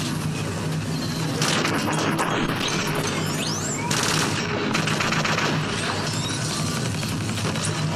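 Dense, continuous weapon fire and blasts in the VR shooter Space Pirate Trainer, rapid bursts and energy-beam sounds layered over loud game music and effects for the whole stretch.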